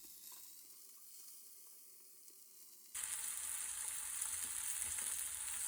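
Chicken frying in a frying pan, quiet at first and then, about halfway through, a sudden louder steady hissing sizzle that continues to the end.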